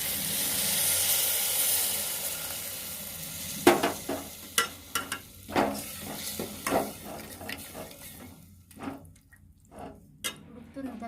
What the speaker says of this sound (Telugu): ఇప్పుడు చింతపండు నీళ్ళు వేస్తాము